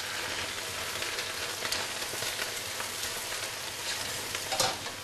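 Young leaf spinach cooks in a hot pan, giving a steady close sizzle and crackle with faint stirring noises throughout and no talking.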